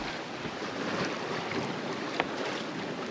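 A sailboat on the Pacific Ocean runs before the wind, a steady rushing roar of wind and water against the hull with small knocks and splashes, no voices.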